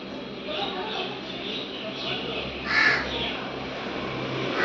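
A crow caws once, clear and close, over a steady background of people talking and street ambience.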